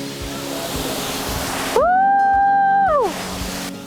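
Matarutung waterfall on the edge of Tomori Bay in Indonesia, a steady broadband rush of falling water. A loud tonal whistle-like sound briefly overlays it partway through.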